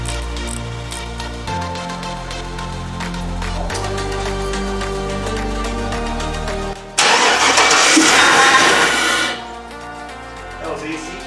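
A 2001 Chevy Tahoe V8 idles steadily nearby, then cranks and catches with a loud burst before settling back to a rumbling idle.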